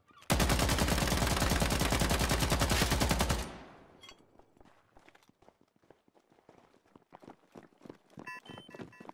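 A loud, fast burst of medium machine gun fire hammers a wall in the World War II shooter United 1944 for about three seconds. Scattered impacts, footsteps and clattering battle sounds follow.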